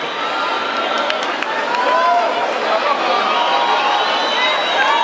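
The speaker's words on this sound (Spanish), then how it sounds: "Un aplauso para la sinfónica también" A large concert crowd at a live cumbia show with a symphony orchestra roars with sustained cheering and applause, a dense continuous wash of noise with shouts rising from it throughout.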